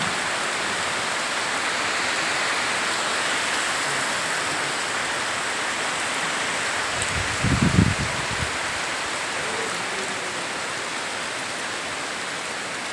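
Heavy rain during a low-pressure storm in Hariyarpur village, Bhangar, South 24 Parganas, West Bengal, a dense steady hiss of downpour with a brief low rumble midway, continuous and broad, no voices.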